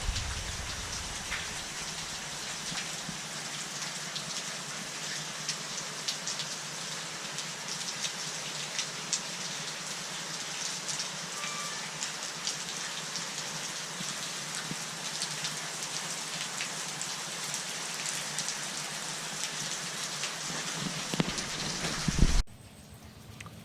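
Heavy steady rain in the Laos rainy season hisses loudly and evenly on surfaces for over twenty seconds, with a soft low rumble underneath, then cuts off abruptly after a brief bump near the end.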